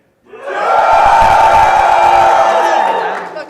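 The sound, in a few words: audience cheering to vote at a convention panel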